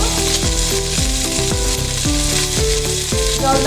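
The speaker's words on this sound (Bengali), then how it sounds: "তেজপাতা সাদা তেল দিয়ে ভালো করে চিকেনগুলোকে আমি ব্রাউন করে ভেজে নিচ্ছি।" Chicken pieces browning in white oil with bay leaves, a loud, dense sizzle running steadily throughout with no talk, backed by a repeating musical tone pattern.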